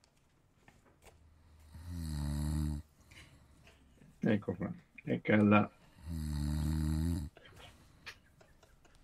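A played recording of a person snoring, with two long, loud, rumbling snores several seconds apart and people talking briefly between them.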